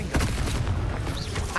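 A Confringo blast spell in Hogwarts Legacy makes a dense, roaring burst that fills the whole moment with a rumbling low crackle, loud and close, with no gap.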